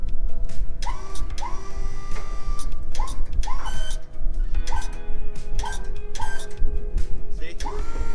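An electric motor on a hay trailer drives a C clamp lever over to lock the load, giving a busy mechanical whirring broken by repeated short rising whines and clicks, close by, with someone talking over it.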